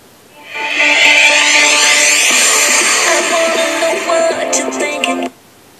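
Samsung S6 phone speaker playing a test tone from a hidden menu, a loud, bright, steady tonal sound that starts abruptly, holds for about five seconds, then cuts off.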